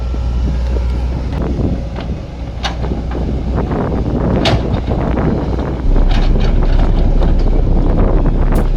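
Strong cold wind buffets the microphone at an earthwork site where excavators dig and level soil in Udon Thani, a loud, steady roaring gust that swells louder near the end, with no talking.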